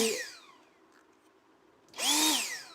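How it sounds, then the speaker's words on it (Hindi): A high-speed electric blower fan from a torch wholesale shop whirs up, fades and then surges sharply again as the motor spins at high rpm, close and loud, with no one speaking. "ये ब्लोअर फैन बोलते हैं, हाई स्पीड मोटर होती है।"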